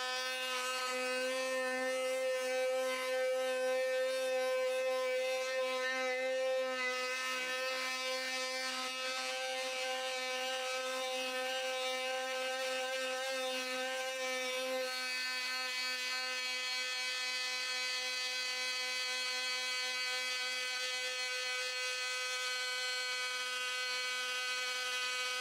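A FERM 20V multifunction tool runs with its vacuum attachment fitted, giving a steady, high-pitched electric whine that holds continuously and evenly close by for the whole stretch, alone without talk.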